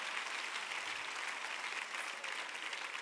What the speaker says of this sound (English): And I give him one more hand clap of praise.